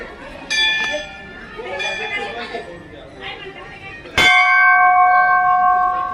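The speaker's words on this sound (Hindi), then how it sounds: "ध्वनि सुनिए घंटे की।" A large temple bell at Belha Devi temple in Pratapgarh rings out with a lingering metallic tone early on, then a second, louder strike near the end that sustains, amid background chatter from people nearby.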